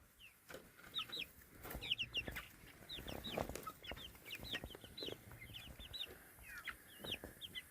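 Several chickens cluck and chatter in quick bursts, fairly close, with soft rustling and scratching around them.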